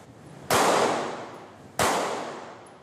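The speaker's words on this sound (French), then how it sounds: "Pendant ce temps, Benjamin perfectionne son tir à balles réelles." Two sharp, loud live-round rifle shots at navy shooting practice, about a second and a half apart, each a crisp crack with a long decaying echo, no talk.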